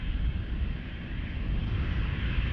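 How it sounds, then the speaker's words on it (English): A 12-year-old KLM Embraer jet taking off from Amsterdam Schiphol's runway 36L, heard as a steady, broad distant engine roar that holds evenly throughout with no voices. "the Embraer from KLM, which will take off to London Heathrow, probably first"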